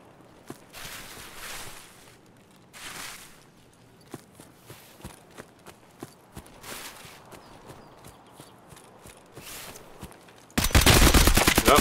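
Escape From Tarkov gameplay: scattered single gunshots crack between footsteps and movement, then a loud, sustained full-auto burst erupts in the last second. No voices are heard.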